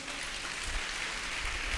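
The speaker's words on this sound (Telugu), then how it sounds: "అందరూ చప్పట్లు కొట్టండి" Church congregation clapping together, a dense steady patter of many hands filling the room at moderate level with no break, no voices standing out.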